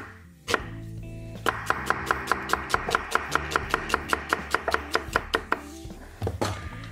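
Potatoes are chopped into large pieces on a cutting board, with a steady run of about twenty sharp knife strikes at an even, brisk pace, close and clear. A single knock comes before the run and some handling noise follows it.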